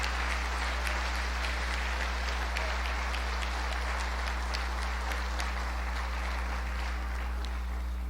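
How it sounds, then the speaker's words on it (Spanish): A church congregation applauds together in a steady, dense wash of clapping that holds for the whole stretch, with a constant low electrical hum underneath. "Un fuerte aplauso, por favor."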